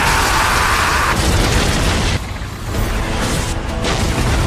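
An anime stone-and-steel golem cracking apart and collapsing to the ground: a loud, sustained rumbling crash with dense debris noise throughout, booming and close.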